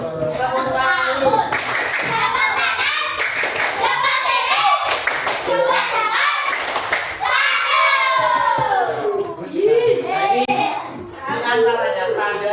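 A class of children claps hands in a lively rhythmic pattern, loud and close, mixed with young voices chanting and speaking over the claps.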